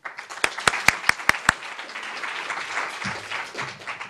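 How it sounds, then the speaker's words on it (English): Audience applause at a customer-experience conference keynote, with a few sharp near claps at the start swelling into steady broad clapping that carries on, then thins slightly near the end. "Let's give Carlos now a big round of applause so he can start his keynote speak."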